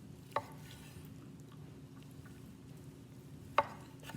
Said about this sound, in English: I'm gonna slice up some brisket right now.